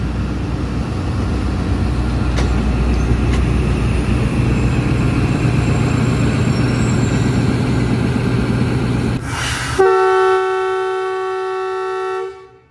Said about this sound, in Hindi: सेवन अप तेज़गाम का डिपार्चर भी सल हो चुका है